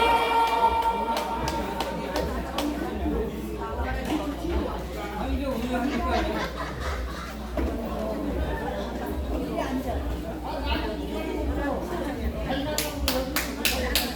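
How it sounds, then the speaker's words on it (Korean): An outdoor crowd at a traditional Korean folk-song performance in Cheongnyangni claps amid steady chatter and crowd noise. Sharper, quicker claps stand out near the end, and voices mingle throughout. "박수 한번 주세요"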